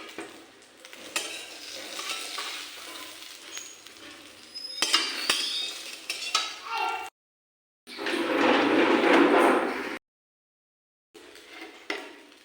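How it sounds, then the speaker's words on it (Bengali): Fried eggplant pieces are lifted out of a hot oiled pan with a utensil: soft oil sizzle, metal scraping and clinks, a louder sizzling burst midway, and brief silent gaps. "আমি এবারে বেগুনগুলোকে তুলে নেব।"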